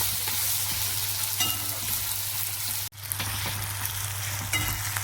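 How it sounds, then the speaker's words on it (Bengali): Onions frying in oil in a pan, a steady close sizzle that runs throughout with a brief dropout near the middle, then resumes unchanged. "পেঁয়াজটা একটু ভেজে নেব"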